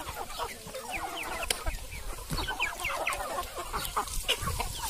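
A flock of farmyard chickens clucking and squawking continuously at close range, busy overlapping calls with no voices.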